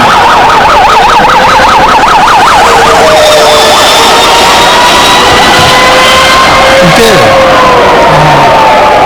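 A wailing siren fitted to an electric race car at Pikes Peak in Colorado Springs cycles loudly and steadily, sweeping up and down, then turning to a long steady tone while the car passes close by.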